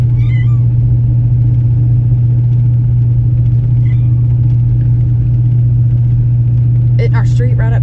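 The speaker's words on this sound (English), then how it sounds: "Truck ride's rough, so all the bumps." Steady, loud low engine drone from inside a moving truck on a rough, bumpy ride, continuous throughout, with a cat meowing briefly at the start and a voice near the end.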